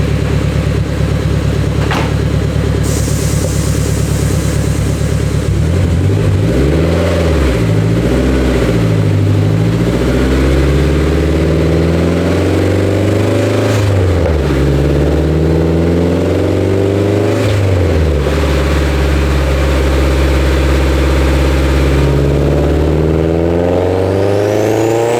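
An engine revving hard through a DynoJet dyno pull, either the stock Integra Type R or the bolt-on GSR Civic hatch, loud and continuous, climbing and falling in pitch across several sweeps, with no talking.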